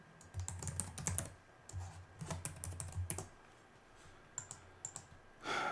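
Someone types a password on a computer keyboard, producing quiet, close bursts of crisp key clicks separated by short pauses.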